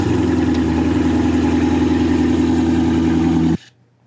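Chevrolet Corvette engine gives a steady, loud low rumble with a firm idle-like drone, then cuts off abruptly near the end, leaving quiet.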